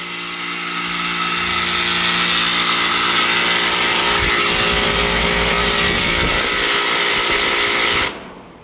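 A noisy air conditioner unit at a house runs with a loud, steady mechanical drone and a low hum, then cuts out abruptly just before the end.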